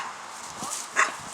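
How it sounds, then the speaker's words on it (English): A dog gives a single short sharp bark near the middle, loud against a quiet outdoor background with a few softer rustling sounds around it. "Yep, that's my dog."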